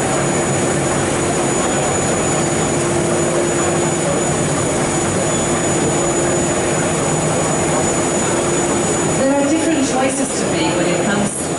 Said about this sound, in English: We're going now up to the production speed of 50 meters per minute, flexo combined with digital printing technology.